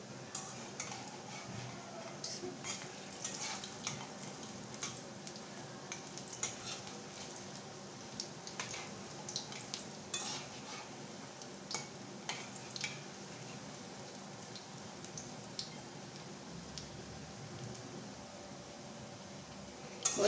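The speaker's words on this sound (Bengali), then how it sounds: "বন্ধুরা, আমি উলট পালট করে ভেজে নেব, মুচমুচে করে ভেজে নেব।" Neem flower fritters made with gram flour fry in hot oil with a soft, continuous bubbling sizzle. Faint turning and scraping taps recur throughout, and no voices are heard.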